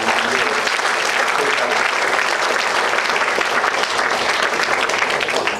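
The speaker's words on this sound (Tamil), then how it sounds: "அவங்களுக்கு ஃபர்ஸ்ட் மிகப்பெரிய ஒரு கைத்தட்டை" Sustained applause from a large audience at a university student induction programme, dense and even clapping that continues strongly throughout.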